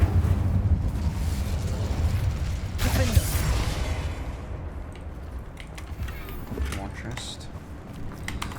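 A fire spell, Incendio, cast in the video game Hogwarts Legacy bursts out with a loud whooshing, crackling blast amid steady game background noise, then fades into softer mechanical rumbles and clicks.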